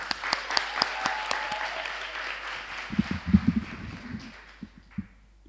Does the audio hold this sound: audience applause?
yes